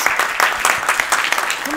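Audience applause at a 2012 alumni event, steady dense clapping filling the room for a couple of seconds, with a voice briefly audible near the end.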